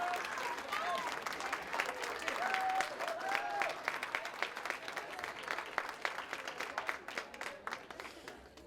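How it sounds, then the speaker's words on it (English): Graduation celebration audience applauding family members, a crowd of many hands clapping for several seconds with sharp individual claps standing out near the end, while voices and cheers rise through the middle. "give a round of applause to your family members"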